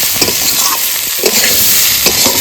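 Pre-fried rice and potatoes go into a hot oiled pan with turmeric, giving a loud, close sizzle with brisk stirring scrapes and taps.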